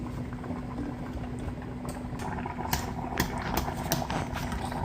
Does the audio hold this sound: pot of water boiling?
yes